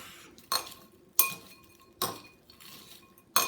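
A spoon scrapes and clinks against a bowl in a few sharp, regular strokes while mixing Cheetos and shredded cheese, with quieter stirring in between.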